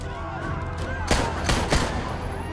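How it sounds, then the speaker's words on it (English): A few sharp gunshots ring out in the Spider-Man PS4 video game, about three loud bursts close together over a steady bed of game background sound. "You just wasted 2 shots"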